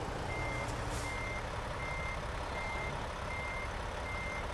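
A vehicle's backup alarm in American Truck Simulator beeps steadily in an even repeating pattern over a constant low truck engine rumble, with no talking.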